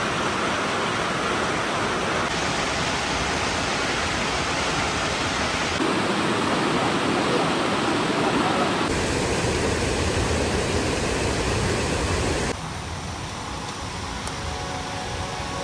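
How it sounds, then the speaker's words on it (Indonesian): Rain falling near a roaring waterfall in Supiori, Papua: a dense, continuous broadband rush of water, loud and steady from start to end with no voices. "Suara hujan yang beradu dengan gemuruh air terjun menghadirkan ketenangan."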